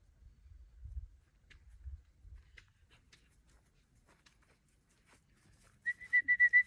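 A handler blows a sharp series of five short, rapid whistle blasts to get a dog's attention outdoors, loud and close, after several seconds of faint rustling and footsteps.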